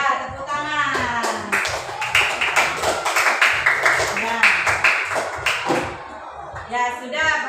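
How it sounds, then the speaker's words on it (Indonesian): Classroom applause with hands clapping in a rapid, dense patter for several seconds, near and fairly loud, with children's voices talking and calling over it at the start and end. "Ya, tepuk tangan."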